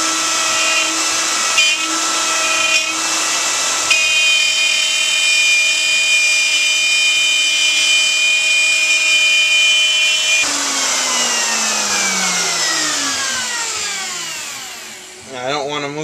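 A router table makes a full-depth pass, a loud continuous high whine of the spinning bit chewing through wood, with dust collection running, before the motor winds down with a falling pitch near the end.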